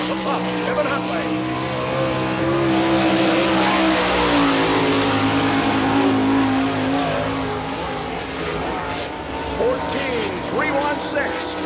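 Car number 7, driven by Kevin Huntley, races on track at an All Star Circuit of Champions event during Florida Speedweek in Barberville, Florida. The engine drones and revs loudly and continuously, with an announcer speaking over it.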